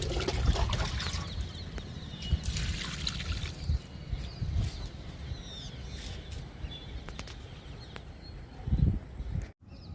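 Oats and kitchen-waste liquid fertilizer is poured onto a lemon plant, a close trickling, splashing pour with intermittent spatters, birds and a rooster faint in the background.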